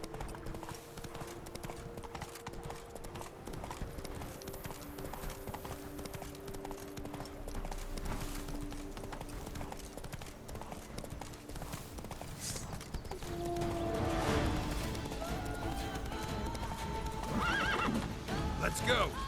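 A horse in The Witcher 3: Blood and Wine gallops with steady, rhythmic hoofbeats and neighs, while someone talks over the sound.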